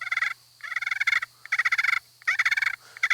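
Turkey purr imitated on a friction turkey call for turkey hunting: four rolling, fluttery bursts with short pauses between them, loud and close and heard alone.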